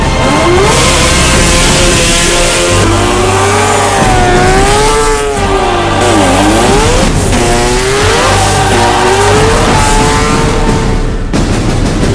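Rotary-engined race cars compete at the 2016 Sport Compact World Challenge, their loud, high-pitched engines wailing and revving with rising and falling pitch as several cars pass close by, without talk.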